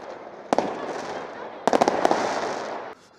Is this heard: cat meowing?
no